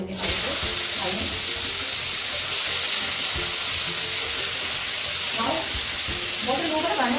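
Potatoes frying in hot oil with ajwain and cumin, a steady loud sizzle close by with occasional stirring clatter, and a voice speaking faintly underneath.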